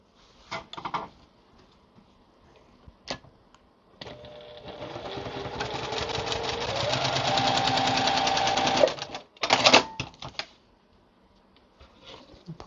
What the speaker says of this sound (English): I know I'm sewing that blue block right there in the middle